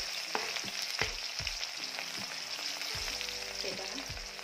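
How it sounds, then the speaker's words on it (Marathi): Garlic sizzles steadily in hot oil in a pan, a continuous hiss broken by regular low knocks of a spoon stirring against the vessel, close and with no talking. "लसणाचा छान रंग बदलेपर्यंत तो असा परतून घ्यायचा तेलात"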